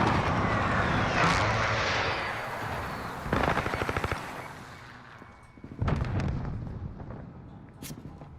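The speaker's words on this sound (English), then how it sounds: "Enemy precision airstrike inbound." Enemy precision airstrike in a shooter game: loud sustained roar of gunfire and blasts, with bursts of rapid machine-gun fire at about three and six seconds, fading toward the end.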